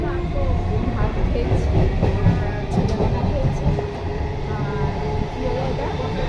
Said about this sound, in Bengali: দেখো ট্রেন পুরো ফাঁকা, ট্রেন আরামসে যাচ্ছি না সোনা, পুরো ফাঁকা ট্রেন।